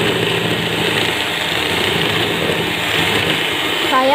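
An electric mixer beats sugar and eggs for cheese chips, giving a steady, loud whirring drone that runs unbroken from start to finish with no voices.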